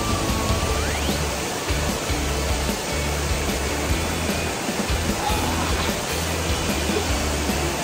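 Asik-Asik Falls, a wide curtain waterfall, roars in a constant loud broadband rush after rain, steady and unbroken throughout with no voices.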